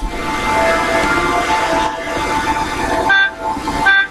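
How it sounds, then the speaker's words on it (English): Vehicle horn honking in the Lego Batman 3 video game, heard as steady tonal blasts over dense game sound, with bursts of horn near the start and two more distinct toots toward the end. "Why do you keep honking?"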